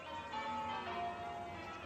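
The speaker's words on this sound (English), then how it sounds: "What are they ringing the bells for?" Church bells of St. Uhtred's ring out faintly in the distance, a soft, sustained metallic peal with no voices over it.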